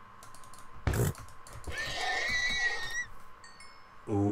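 A Minecraft horse gives a short, high whinny in a quiet survival world, following a sharp thump and preceding a second brief thud, with no talk over it.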